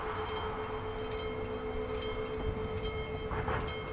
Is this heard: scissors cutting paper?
no